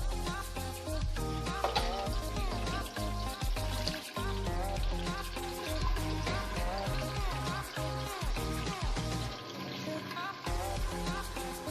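Onion and garlic fry in a pan for Kerala chicken biryani, a steady crackling sizzle running throughout, with music playing loudly over it.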